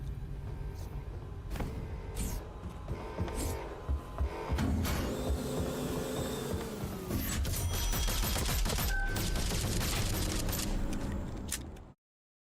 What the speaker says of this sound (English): Just shooting up my ship, chat.